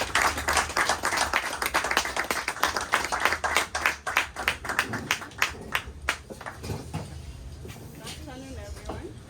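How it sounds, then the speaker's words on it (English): An audience at a demo day gives a round of applause, with dense clapping that thins into scattered individual claps and fades toward the end. "To give a round of applause"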